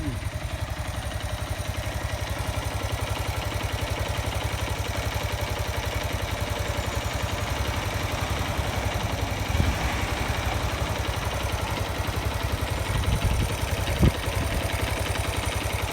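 A Suzuki GD 110 motorcycle engine idles steadily nearby, a constant low chugging hum with an even, unchanging rhythm throughout.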